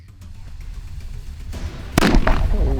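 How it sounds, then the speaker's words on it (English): Twenty grams of black powder packed in a vessel wrapped tightly with fibre-reinforced tape detonates in one sharp, loud outdoor bang, followed by a rumbling, noisy tail after a stretch of low wind. "It's more of a bang, that's a bit more like it."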